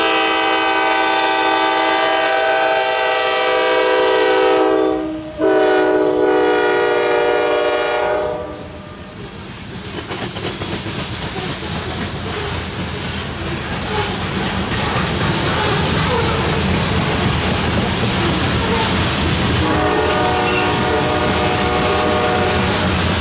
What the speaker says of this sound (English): A YN3-8 leading the BNSF grain train eastbound through Fostoria,